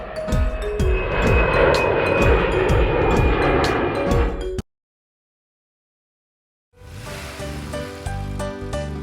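A jet airliner engine roars loud and steady for several seconds, then cuts off abruptly to silence before a different tonal sound starts up.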